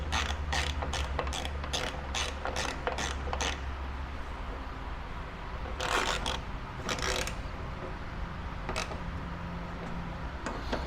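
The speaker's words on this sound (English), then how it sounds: "Ratchet's a little bit overkill for these, but it's what I had handy." A ratchet wrench turns 5/16 bolts on a wiper motor in a 1962 Chevrolet C10 cab, giving rapid runs of clicking pawl ticks in quick bursts with short pauses between them. The sound is close and fairly quiet.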